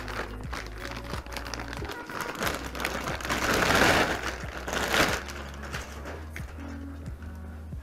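Packaging of a Logitech Driving Force GT racing wheel is opened, with continuous crinkling, rustling and tearing of plastic and cardboard that swells to a louder burst midway, near and alone.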